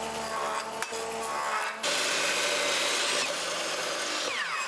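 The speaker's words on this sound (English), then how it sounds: "This is a 3/16 6-inch drill bit, which is a very big, long drill bit." A power drill with a long 3/16-inch, 6-inch bit whirs steadily, briefly stopping and then starting again with a louder, rougher grinding as the bit bites into material.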